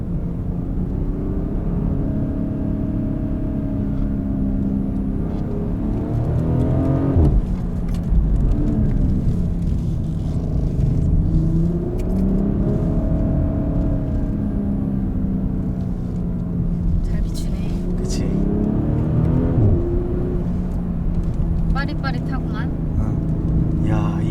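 BMW 8 Series coupe driving in sport mode, its engine note rising and falling in repeated surges as it accelerates, loud and steady from inside the cabin, with people talking over it.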